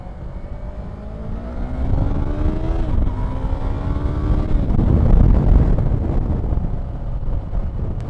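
A truck passes on a road while a motorcycle rides along, its engine tone rising and shifting. Heavy wind rumble surrounds the passing vehicle noise, which builds to a peak and fades.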